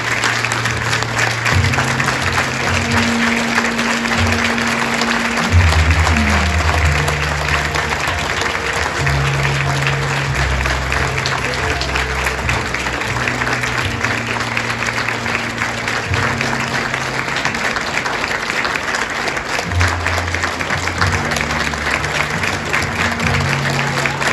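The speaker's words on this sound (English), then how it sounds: "let's give Miss Minnie Brown a round of applause" Audience applause for Minnijean Brown-Trickey, one of the Little Rock Nine, at an MLK Center event: steady, dense clapping from a large crowd that holds throughout, with music or low tones running underneath.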